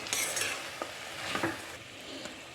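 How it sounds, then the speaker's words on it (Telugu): A spoon stirs salted ingredients for a Goru Chikkudu (cluster bean) curry inside a pressure cooker. Scraping strokes come close and fairly loud, with a soft sizzle underneath and a couple of metallic clinks. "మొత్తం అంతా ఒకసారి కలుపుకుందామండి"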